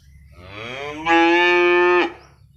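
A newly arrived cow on a farm lets out one loud, close moo that rises in pitch, holds steady, and then cuts off sharply, with quiet background before and after.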